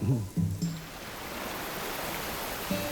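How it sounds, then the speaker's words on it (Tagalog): Continuous rushing water of a waterfall heard along a trekking trail in Cavinti, Laguna, a broad steady roar that swells after a few brief voices at the start and near the end. "naririnig ko na yung tubig ng waterfalls"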